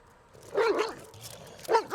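A dog barks twice, a short bark near the start and another near the end, fairly close and clear, with no talk over it.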